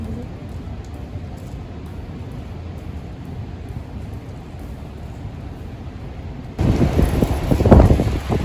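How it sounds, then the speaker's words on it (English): Rain falls at an abandoned house under renovation on Madeira, Portugal, a steady soft hiss that suddenly turns into a louder, heavier downpour with gusty rumbling toward the end. "It started raining at the end."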